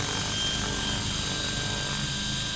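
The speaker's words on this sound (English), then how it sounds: "The helicopter hover is just amazingly stable." A scale RC helicopter running a DJI Wookong-S flight controller hovers steadily, its rotor and motor making a loud, continuous whine and wash that holds unchanged throughout.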